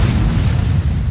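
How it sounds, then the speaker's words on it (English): Cannons fire grape shot in a Napoleon: Total War online battle, producing one continuous dense, rumbling boom of artillery that fills the whole moment at full loudness. "I was able to get 2 cannons going and get some grape shot."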